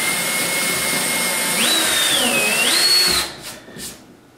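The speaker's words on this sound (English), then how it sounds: "you're going to drill all the way through a little 16th inch hole" A power drill bores a small 1/16-inch hole all the way through a baseboard on a vertical CNC machine, a loud steady whine that rises in pitch, wavers, then cuts off with a short trailing spin-down.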